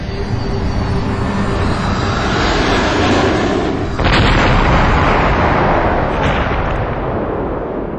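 Planes crash into the Twin Towers with a loud, sustained roar of explosion. A heavy blast hits midway and another sharp impact follows, all dense and rumbling without voices.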